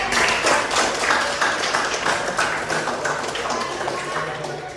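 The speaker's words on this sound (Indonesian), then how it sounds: "kita berikan tepuk tangan untuk pemateri kita" Classroom audience clapping for student presenters after an Indonesian-language group presentation, an uneven patter of a modest number of hands, fairly close and loud at first, tapering gradually with some voices mixed in.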